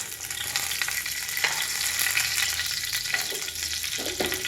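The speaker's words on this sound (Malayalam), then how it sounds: "എണ്ണയല്ല വെളിച്ചെണ്ണയാണ് ഞാൻ ഒഴിച്ചു കൊടുക്കുന്നത് അതിലേക്ക് നമുക്ക് കറിവേപ്പിൻ്റെ ഇല ഇട്ട് കൊടുക്കാം" Curry leaves dropped into hot coconut oil give a dense, steady sizzle and spatter that stays loud and even throughout, with a few sharper pops and scrapes of stirring.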